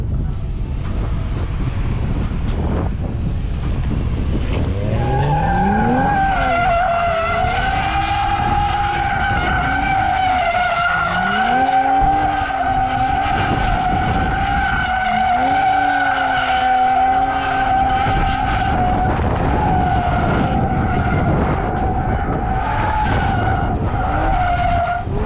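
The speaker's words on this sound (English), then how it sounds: "Good drifting." A Toyota GR Supra drifting: continuous loud tire squeal and skidding with a roaring engine, the screech rising and wavering in pitch through long sustained slides, with wind buffeting the microphone throughout.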